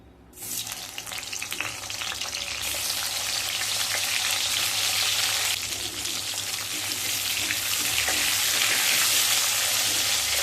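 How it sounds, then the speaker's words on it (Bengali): Pieces of pointed gourd fry in hot mustard oil in a wok, a loud, dense sizzle that starts abruptly and continues steadily, with no voices. "প্রথমে কড়াইতে সর্ষের তেল দিয়ে দিলাম তেলটা গরম হয়ে গেছে এবার পটলগুলোকে ভেজে নেব"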